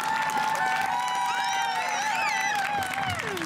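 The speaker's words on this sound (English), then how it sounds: "give your parents, caregivers, a round of applause" Audience applause for parents and caregivers at a class of 2022 graduation, with steady, dense clapping from a crowd and some cheering, filling the whole moment without pause.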